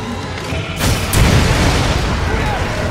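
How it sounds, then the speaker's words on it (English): Rocket launcher blasts in the video game Resident Evil 5, a loud, deep, rumbling boom that swells after a second and keeps roaring under game noise. "rocket launcher the buildings on the side so we have a clear shot of everything."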